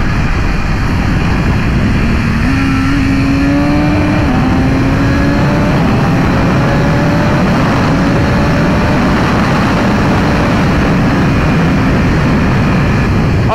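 A BMW S1000RR sport motorcycle engine pulls hard through the higher gears, a loud, continuous roar with rising revs and shifting pitch that runs unbroken for the whole stretch with wind rush around it.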